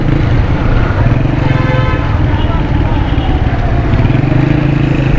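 Motorcycle riding through Karachi streets under dark, overcast skies, a steady close engine drone with wind rumble and passing traffic, with brief horn toots in the background.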